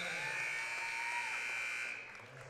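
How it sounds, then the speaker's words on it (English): A steady electronic buzzer sounds at the end of a quarter in a girls' high school basketball game, loud and sustained for about two seconds before cutting off, leaving faint gym ambience. "she scores right before the buzzer"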